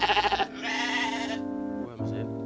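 A sheep bleats loudly nearby, a wavering, quavering cry followed by a second shorter bleat, with no talking.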